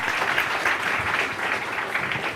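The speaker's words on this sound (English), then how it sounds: "Please give our panelists a round of applause." A summit audience applauds its panelists at an Africa-Europe forum, a steady, full round of clapping from a large crowd filling the hall throughout, with no voices over it.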